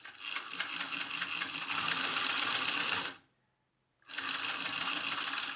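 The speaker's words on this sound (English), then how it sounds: "Also, I'm back stitching a little bit on the edge." A sewing machine back stitching along the edge of a sunglass case, loud rapid mechanical whirring in two close runs separated by a second of silence.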